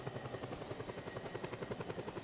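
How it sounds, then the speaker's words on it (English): A low-flying helicopter in the video game Just Cause 2, its rotor thumping in a fast, steady beat with a constant engine whine, fairly faint and heard alone. "This is a surprisingly low helicopter."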